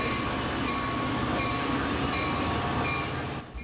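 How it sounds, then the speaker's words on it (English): An Amtrak passenger train pulls into Rochester station, its steady rumble and rail noise loud and continuous before easing off near the end; no one speaks. "The first eastbound train to stop in Rochester following the derailment pulled in 5 hours late"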